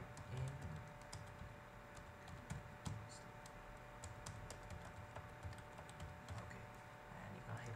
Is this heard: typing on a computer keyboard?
yes